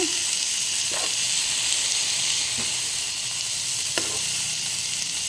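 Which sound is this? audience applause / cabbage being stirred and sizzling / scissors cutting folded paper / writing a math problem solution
cabbage being stirred and sizzling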